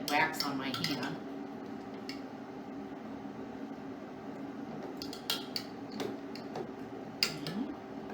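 Metal tongs push a stick into a pot of hot wax while making camping fire starters, with light metallic clinks and taps against the pot under a speaking voice.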